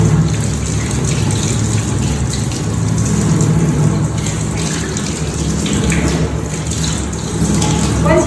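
Tap water runs steadily throughout while hands are rinsed during a surgical scrub, a continuous close gushing stream with no pauses and no talk.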